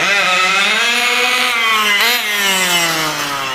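A Taylor 35 nitro engine runs steadily during break-in, a loud continuous high-pitched buzz whose pitch dips and rises slightly with throttle, close up and without talk.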